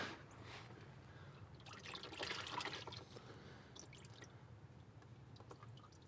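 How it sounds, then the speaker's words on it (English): Transmission fluid pours and trickles quietly from a drain pan into a container, a soft splashing stream that swells briefly in the middle before settling to a dribble. "And pour out what's left in our pan."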